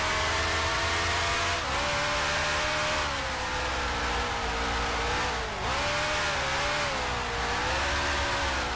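Sustained high-revving racing car engine from the Grand Prix Legends game, loud and continuous with brief pitch dips as the driver shifts or lifts through corners, no voices over it.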